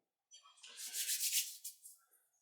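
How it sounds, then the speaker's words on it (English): A wild-clay pot is burnished on a pottery wheel, giving a soft, close rubbing swish that rises and falls over about two seconds, with no talk. "Burnish it a bit."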